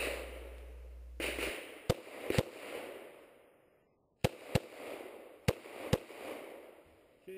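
Pistol shots ring out during an IDPA shooting match stage, a series of sharp, loud cracks in uneven pairs and singles with echoing decay between them and no talk.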